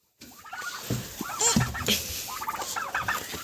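Several chickens cluck and call in overlapping bursts, fairly close and busy, with no talking.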